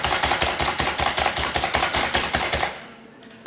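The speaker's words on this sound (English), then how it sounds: "Oh, slap chop it." A Slap Chop hand chopper rapidly pounds lasagna ingredients in a fast, steady run of about twenty sharp, close thumps, then stops abruptly.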